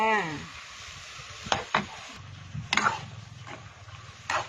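Mushrooms sizzle steadily in a pan for Thai basil pork with fish balls, with a few clinks and scrapes from stirring. A voice speaks briefly at the start.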